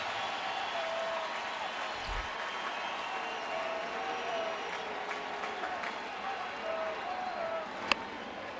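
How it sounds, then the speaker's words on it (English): Home crowd at Kauffman Stadium during a 2015 Astros–Royals playoff game, a broad, sustained roar of cheering and clapping that rises gently, heard from a distance with a single sharp crack near the end. "Home crowd starting to get back into it here at Kauffman Stadium."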